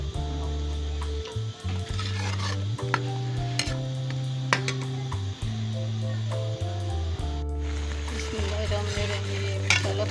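Masala of tomato, onion, green chilli and garlic-ginger paste frying in a pan gives a continuous sizzle, with steady stirring and scraping throughout and a strong low hum underneath.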